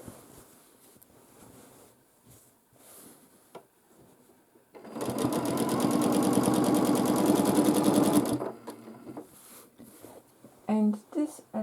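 A sewing machine free-motion quilts a large quilt, with a loud, dense burst of rapid stitching lasting a few seconds in the middle and quieter talk before and after.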